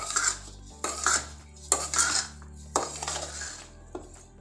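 Sugar being stirred into a mixture in a bowl, with repeated scraping and clinking of a spoon against the vessel in several close bursts, no talk.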